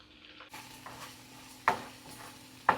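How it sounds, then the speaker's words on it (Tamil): Ground onion paste sautéing in a pan for chicken gravy, a soft steady sizzle joined by two sharp scraping stirs of a spoon against the metal, with no talking. "அரைச்சி வச்ச ஆனியன் பேஸ்ட்டை வந்து ஆட் பண்ணிப்போம்"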